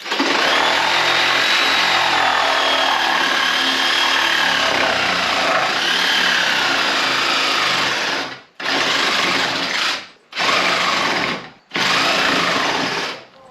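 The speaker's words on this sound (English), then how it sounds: "I'm gonna sawzall this base plate out and see how well these blocks come out" Battery-powered Sawzall reciprocating saw cutting out a garage base plate, a loud continuous buzzing cut that runs for about eight seconds, then stops and restarts in three shorter bursts with brief gaps between.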